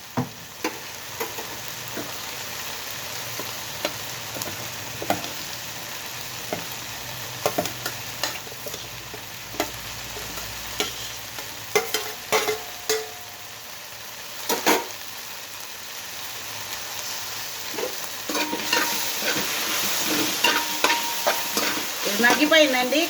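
Spoon scraping and stirring guava and green chillies in a hot pan over a continuous sizzle, with irregular clanks and knocks throughout; no voices.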